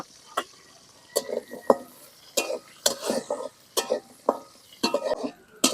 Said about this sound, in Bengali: রসুন শুকনা মরিচ আর পেঁয়াজ দিয়ে দিলাম বাজা নিব তেলে